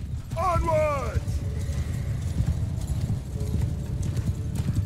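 Cavalry horses in the video game Mount & Blade 2 move out with a steady clip-clop of many hooves, opening with a loud neigh over the trampling and a busy battlefield bustle.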